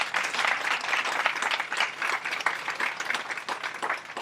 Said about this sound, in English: That's worthy of a little applause,